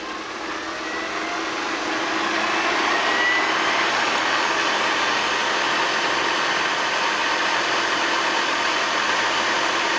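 A treadmill motor drives an antique Logan lathe at top speed, giving a steady, loud, high-pitched mechanical whine and hum that holds evenly for the whole stretch with no talk.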